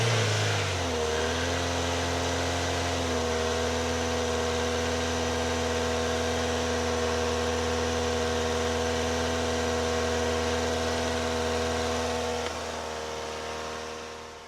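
A Ford Fiesta engine holds at raised revs, a steady close hum that runs unbroken for about twelve seconds before the pitch drops and the sound eases off at the end.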